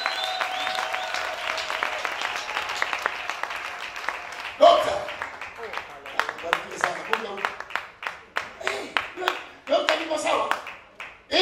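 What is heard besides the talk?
congregation clapping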